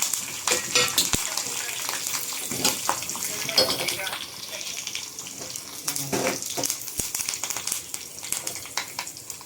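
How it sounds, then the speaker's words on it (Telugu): Garlic, mustard seeds, cumin, curry leaves and dried red chilies frying in a tempering for radish leaf pappu, with soft uneven sizzling and crackles plus a couple of sharp clicks, faint and close. "కొద్దిగా వెల్లుల్లి ఉడికిన తర్వాత దీంట్లో ఆవాలు జీరా, ఇప్పుడు కరేపాకు, చివరిలో ఎండుమిర్చి,"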